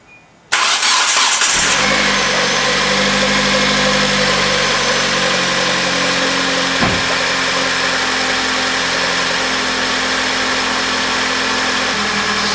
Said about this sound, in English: now I'm just gonna get in there and start the car.